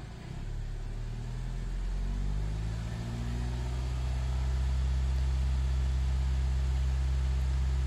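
A 2006 Audi A3 2.0T engine after a timing chain job revs up from idle, its low rumble rising in pitch and then holding a steady, smooth drone nearby.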